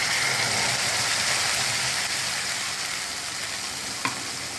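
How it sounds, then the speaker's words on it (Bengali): Capsicum, tomato, ginger and chilli paste sizzles loudly in hot oil in a pan, a dense steady crackle that runs unbroken, with one small clink near the end. "ক্যাপসিকাম টমেটো আদা লঙ্কার পেস্টটা এবারে দিয়ে দেব"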